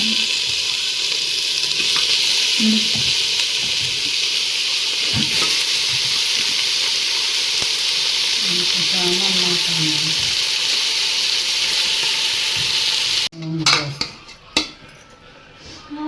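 Mangalore-style bangude mackerel fish fry: a loud, steady sizzle of fish frying in a pan that goes on throughout, with some utensil clatter and stirring near the end.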